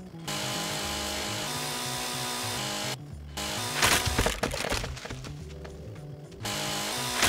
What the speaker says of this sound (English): First try sawing. Doesn't work. Then you try chainsawing.